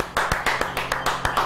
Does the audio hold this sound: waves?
no